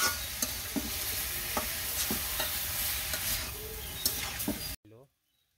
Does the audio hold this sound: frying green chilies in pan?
yes